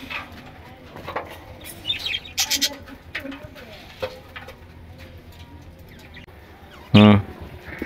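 Caged birds chirp and coo near a shop in an old haveli, with scattered calls and wing flutters, faint talk in the background, and one short loud burst near the end.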